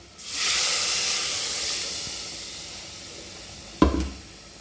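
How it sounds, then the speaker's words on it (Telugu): Water, left over from rinsing the mixer jar, hits a frying drumstick masala curry with a sudden loud hiss that fades slowly over several seconds, ending with a sharp metallic knock near the close. "ఇప్పుడు మనము ఈ మిక్సీ కడిగిన వాటర్ ఉన్నాయి కదండి ఈ వాటరే మనం దీంట్లోకి యాడ్ చేసుకుందాం"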